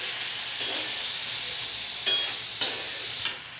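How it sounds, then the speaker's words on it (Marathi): Paneer bhurji stirred and sautéed in a pan on a home stove, a steady close sizzle and hiss with a few soft scraping stirs of the spatula, and no voices. "1-2 मिनटं चांगले परतून झालेले आहेत आपले."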